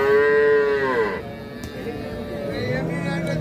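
A Holstein Friesian or Sahiwal Sindhi dairy cow moos loudly and close at a busy cattle market, one long harmonic call fading after about a second, followed by crowd murmur and a fainter animal call.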